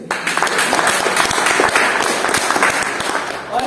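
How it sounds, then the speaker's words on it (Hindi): Loud, sustained applause from a crowd at an Atomy product meeting in Bongaigaon, Assam, a dense wash of many hands clapping steadily throughout. "तो एक बार जोरदार ताली सरके दी।"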